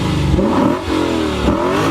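A 5-liter V8 in a 2015 Lexus RC F revs hard and close, its engine note climbing, dipping briefly, then rising again, loud with no talk over it.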